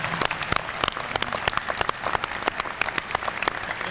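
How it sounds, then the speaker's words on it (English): An audience at an NEA conference at URI bursts into applause for themselves, a thick, sustained patter of many hands clapping at once, fairly close and without talk over it. "So give yourselves a round of applause and one another."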